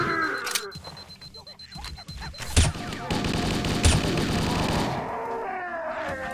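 Gunfire in Halo: Combat Evolved during a rescue-the-captain mission, with bursts and sharp reports amid dense, continuous combat noise and a couple of loud transient shots.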